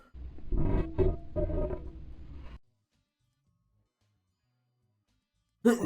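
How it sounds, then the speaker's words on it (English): A deep, growling roar-like sound effect, pitch-shifted down two octaves and amplified, slowed and low-pitched, lasts about two and a half seconds, then silence, and a brief burst returns at the end. "So pitch shifted down 2 octaves and then amplified."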